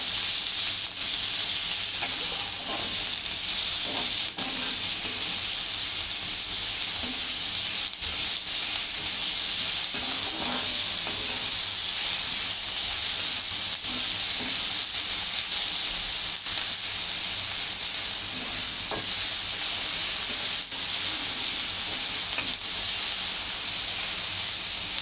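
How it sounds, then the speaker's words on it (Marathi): Onion, chili and garlic sauté in a pan with a steady, even sizzle and faint hiss, punctuated by occasional soft scrapes of stirring, close by and without talk. "आपण याला गुळगव रंगावर परतून घेणार आहोत."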